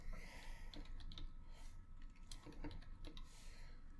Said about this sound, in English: you can just type in Notepad++ download, hit enter